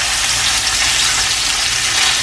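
Salmon pieces sizzle in a pan beside a curry lobster and shrimp dinner, making a loud, steady, close frying hiss that runs without a break and has no talk over it.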